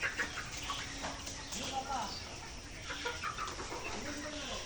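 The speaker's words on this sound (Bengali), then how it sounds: "দেখতে পাচ্ছেন আমাদের মুরগিগুলো" Pullet chickens on a poultry farm cluck softly and intermittently in short, repeated calls. The sound is faint and distant, with a light background murmur.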